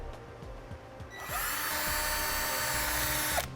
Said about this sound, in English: we will use the back hole as a guide to drill a small pilot hole right